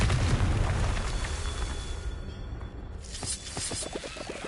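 A Confringo fire spell blast from Hogwarts Legacy in a fight with poachers: a loud, deep explosive burst with a rumbling tail that fades, then smaller popping crackles near the end.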